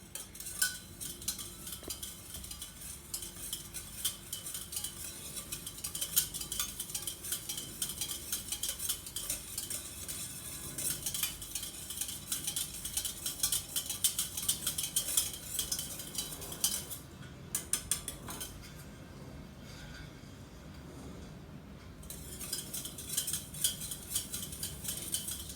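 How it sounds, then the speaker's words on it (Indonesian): Homemade yogurt stirred in a pot with a utensil, giving steady scraping and clinking of metal against the pan for most of the stretch, close and moderately loud, with a brief quieter pause before the stirring picks up again. "Ya, kita aduk."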